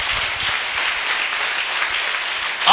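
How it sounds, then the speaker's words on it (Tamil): A church congregation claps together in steady, dense applause, loud and continuous throughout without pause. "நல்லா கைதட்டுங்க"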